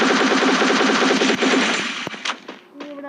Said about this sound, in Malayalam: സുഭാഷിന്റെ വെടിയും പൊങ്ങ തീർന്നു.